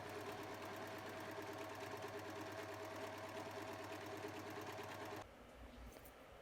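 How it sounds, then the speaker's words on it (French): A sewing machine zigzag-stitches the hem of a skirt with a steady, fast, rhythmic mechanical whir close by. It cuts out abruptly near the end, leaving quieter handling noise. "Zigzaguez ou surjetez le bas de la jupe."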